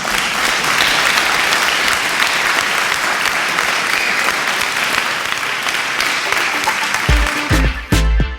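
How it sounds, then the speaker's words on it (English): An audience breaks into loud, dense applause that holds steady for several seconds before tapering and stopping near the end, with no talk over it. "Give yourselves a massive round of applause."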